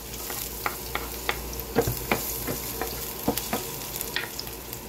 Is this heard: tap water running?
no